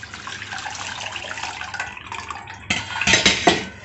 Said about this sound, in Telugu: కొద్దిగా చల్ల నీళ్ళు పోసేద్దాం.